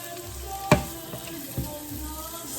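Onions and mushrooms browning in a pan give a low, even sizzle, with a couple of sharp knocks from a utensil against the pan.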